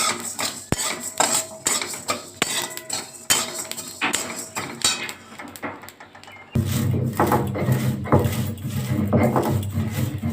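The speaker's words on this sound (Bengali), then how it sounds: "আমি এই যে মশলাটাকে বেটে নিচ্ছি, এই ভাজা জিরের মশলাটাই আমি দেব আমার মাছের ঝোলে।" Fried cumin and coriander are ground into a spice paste on a grinding stone, giving a close run of irregular knocks, scrapes and clinks, then a steadier, denser rubbing grind in the last few seconds, with no voices.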